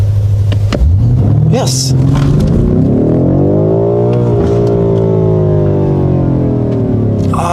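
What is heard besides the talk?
BMW M5 Competition launch control acceleration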